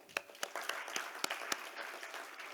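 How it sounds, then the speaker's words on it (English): Light applause from a conference audience at the Africa Sankalp Summit plenary, a few sharp distinct claps at first, then scattered softer clapping trailing off, fairly quiet. "A round of applause for all of you."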